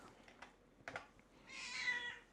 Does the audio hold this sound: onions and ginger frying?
no